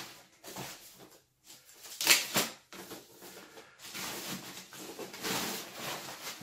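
Unwrapping a Dell Inspiron 24-inch 5477 all-in-one computer: close, soft crinkling and rustling of packaging in irregular bursts, with one sharper crackle partway through.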